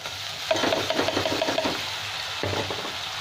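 Chopped tomatoes fry with onions, ginger and garlic in a pan for a shahi paneer base, with a steady sizzle and a rapid run of spatula scrapes, a pause, then another burst of stirring, close and clear.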